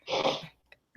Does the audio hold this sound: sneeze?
yes